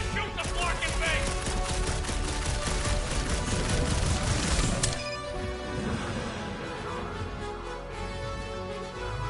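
Rapid bursts of gunfire from a Guardians of the Galaxy video game fight crackle loudly for about five seconds, then cut off and leave a quieter tail of echo and debris. No talk is heard over the shooting.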